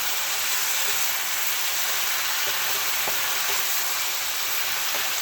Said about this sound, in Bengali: ঢাকা দিতে হবে এবং বারে বারে নাড়তে হবে।